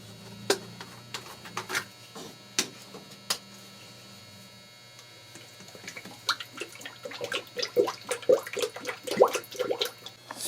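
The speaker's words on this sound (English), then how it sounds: "Right guys, let's put some coolant on." Coolant poured into the radiator of a 2007 Mitsubishi Lancer, a trickling, gurgling liquid flow with splashy bursts that grows busier toward the end, over a low steady hum.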